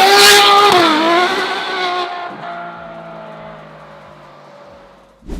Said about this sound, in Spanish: el Ferrari 812 Superfast, con un motor de 12 cilindros de